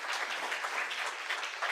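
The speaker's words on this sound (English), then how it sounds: "one more round of applause, please" Audience applause at the close of a talk at the IAU General Assembly 2024, a steady wash of many hands clapping, evenly loud and sustained throughout with no voices on top.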